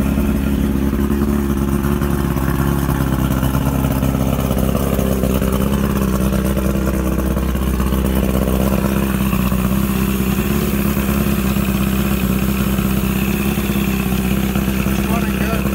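A 40hp Mercury two-stroke outboard motor, just back from carburetor work, runs loud and steady at close range with a rough, buzzing drone and slight rev fluctuations, while a person talks over it.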